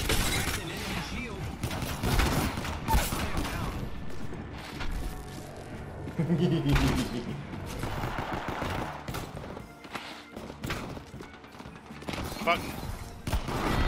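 Gunfire in a video game crackles in scattered bursts and volleys under busy game noise, with people talking over much of it.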